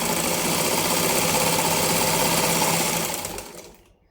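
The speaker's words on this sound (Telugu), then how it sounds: "డబుల్ స్టిచ్ అయితే వేసుకుంటున్నాను" A domestic sewing machine runs a double stitch on a lined blouse of soft, slippery fabric, a loud, close, continuous motor whir with rapid needle clatter that slows and stops near the end.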